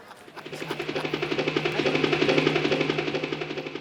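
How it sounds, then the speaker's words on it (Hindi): Steady rhythmic chopping of a helicopter's rotor, with a constant low drone, growing slightly louder and then holding at moderate volume. "हेलीकॉप्टर की आवाज।"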